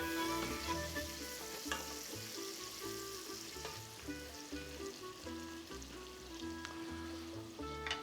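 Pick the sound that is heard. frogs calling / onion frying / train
onion frying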